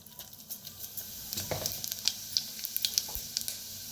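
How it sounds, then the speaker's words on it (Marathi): Mustard seeds and cumin crackle and sizzle in hot oil, with sharp pops scattered over a steady frying hiss and occasional stirring, close up, with no one talking. "तेल चांगलं गरम झालेलं आहे. त्याच्यात टाकूया मोहरी अर्धा चमचा. अर्धा चमचा जिरं."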